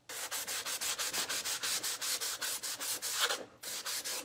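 A sanding block rubs along painted furniture edges in rapid, even back-and-forth strokes, about five per second, close and fairly quiet, with a brief pause near the end and no talking.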